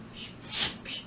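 A single short sneeze, fairly close and brief, preceded by a soft intake of breath.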